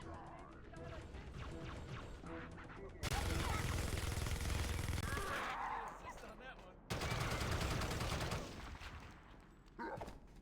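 Sustained minigun fire from a Halo campaign mod, dense rapid bursts of shots in loud long runs separated by brief gaps, with game combat noise underneath.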